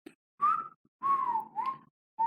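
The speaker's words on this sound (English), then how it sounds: "Two awful whistlers apparently." Two people whistling in turn, sliding tones rising and falling, in three separate bursts with short gaps, close and clear with no talking.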